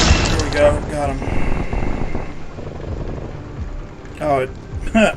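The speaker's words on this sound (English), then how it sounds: "my helicopter landed on top of the building" Helicopter touching down on a rooftop in Call of Duty: Black Ops Cold War, a rotor-like mechanical wash mixed with crashes and game effects, with a voice talking over it in bursts.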